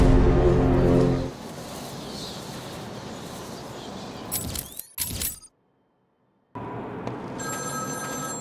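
A telephone rings in Batman Arkham City, an electronic trill under a loud ambient bed that drops out, goes silent for about a second, then returns with more ringing tones.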